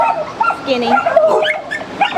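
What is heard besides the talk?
dog barking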